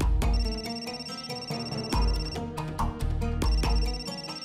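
A mobile phone ringtone rings loudly and close, a repeating melodic electronic tune with regular bright chimes over a few seconds, heard alone with no talk.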